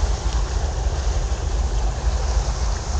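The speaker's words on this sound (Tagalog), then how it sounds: "lakas ang alon oh" Strong waves washing against a barge at an outdoor fishing spot, a steady rough wash of water with low rumble and wind buffeting the microphone throughout, no talking.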